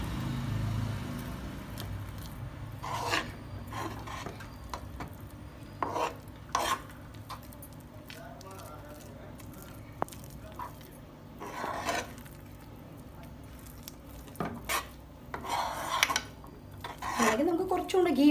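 Semolina halwa is stirred in a pan with repeated scraping and clanking of the utensil against the metal, over a soft, faint sizzle, louder toward the end.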